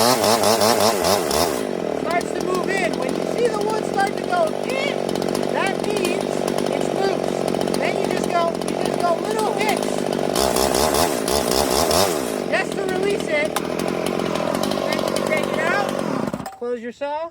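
Chainsaw cutting through wood: a loud, close engine roar holding steady at high revs under load, easing briefly around the middle, then cutting off abruptly near the end.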